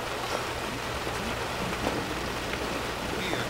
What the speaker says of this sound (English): No need to stand out in the rain.